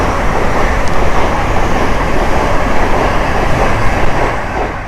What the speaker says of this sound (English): a very big train, right?